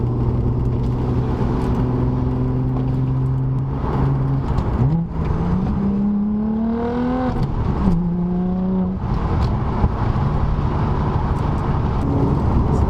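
A B5 Audi S4 engine idles steadily, then revs up in a couple of rising sweeps before settling back to a loud, even idle.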